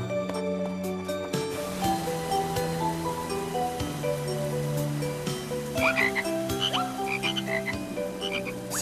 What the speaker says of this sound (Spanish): ¡Están lloviendo ranas!